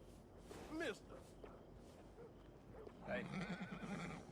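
A horse in Red Dead Redemption 2 whinnies twice, with hoof clops and soft ambient game sound between the calls, fairly close and moderate in level.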